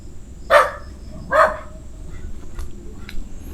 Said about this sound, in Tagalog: may aso ah, natahulan tayo